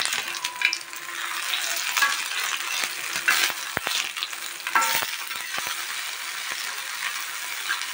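Small anchovies fry in a pan of hot oil, a steady bright sizzle running throughout with scattered crackles and pops, close and fairly loud, no voices.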